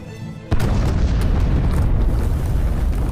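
An alchemist's cave laboratory blows up with a sudden loud boom that rolls into a sustained roaring rumble, heavy and close with no voices.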